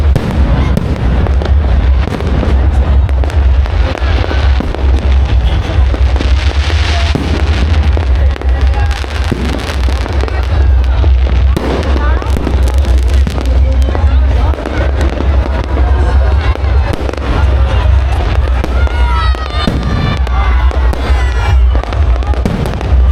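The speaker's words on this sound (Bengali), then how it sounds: "চারিদিকে বাজি ফাটছে।" New Year's Eve fireworks burst all around at New Digha on the 31st of December, a dense, continuous barrage of loud cracks and booms with crackling tails, nearby and overlapping, over a low crowd murmur.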